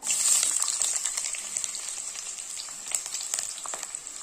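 Long-sliced onion sautéing in hot oil for a vegetable biryani, a steady crackling sizzle with a bright hiss, loudest at first, with scattered pops and stirring, no talk.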